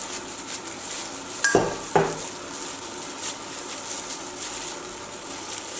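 Flour for welethalapa mixed by hand in a large bowl, with a soft steady scraping under faint background hiss and two sharp clinks of a utensil against the bowl close together near the start.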